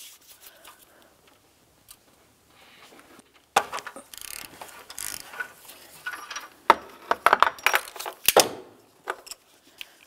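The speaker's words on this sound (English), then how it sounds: "Now we can turn this counterclockwise to remove it." Ratchet with swivel and extension loosening an oxygen sensor on the exhaust manifold catalytic converter of a 2009-2019 Ford Flex; quiet at first, then a run of close metallic clicks, scrapes and clinks from the tool working, with no talking.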